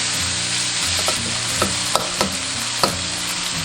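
Aubergine sizzles in a wok as it is stir-fried with hoisin sauce, a continuous loud frying hiss broken by a few scraping strokes of a spatula, with no voices.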